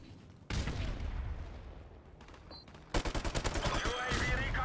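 Bursts of gunfire in Call of Duty 4 Modern Warfare Remastered, a team deathmatch on the map Wet: a steady loud roar, then a rapid rhythmic volley of close automatic shots in the last two seconds.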